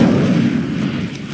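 A spell-casting fire burst in a video game, a loud dense rumbling whoosh of flame that holds steady for over a second with no voices.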